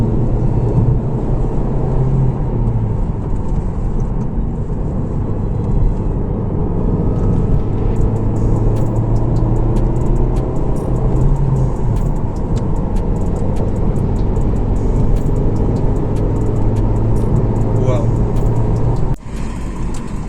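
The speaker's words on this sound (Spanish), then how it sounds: "el turbo se activa y el carro se vuela, literal, se vuela contigo" A 2019 Volkswagen Golf with a 1.4 L TSI turbo engine accelerating, a steady, loud engine and road drone with a low hum rising in pitch, continuous for about twenty seconds and cut briefly near the end.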